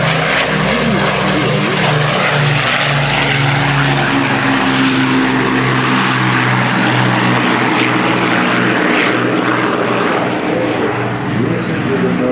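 Avro Lancaster bomber at a heritage day, its propeller engines droning loud and steady throughout, a dense continuous rumble close by.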